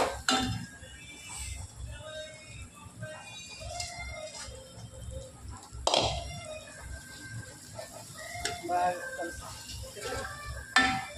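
Metal spoon clinks and scrapes against a pot as boiled gongura leaves are stirred into chicken curry, in scattered close clinks with someone talking over them.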